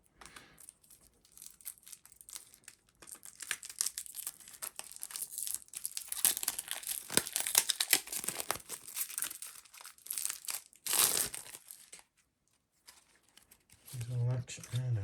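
Action cards from a Rise of the Zombies board game being flicked through by hand: soft, rapid papery riffling and crinkling, close and quiet, with someone talking throughout.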